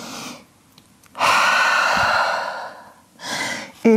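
A deep, audible breath drawn during a downward dog yoga pose: a short sigh, then a long, close inhale lasting over a second and a half, followed by a softer exhale.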